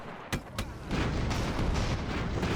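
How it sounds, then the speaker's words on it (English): Explosions in the airship combat game Airships: Conquer the Skies, with an ammo store detonating into a chain of secondary blasts: two sharp bangs, then a dense, sustained rumbling roar of continuous explosions. "There's an ammo store go up, secondary explosions all over the place, chain reaction"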